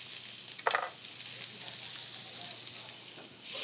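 Onions and garlic are stirred in a hot pan for penne with tomatoes, making a steady hissing sizzle with one brief utensil clatter near the start.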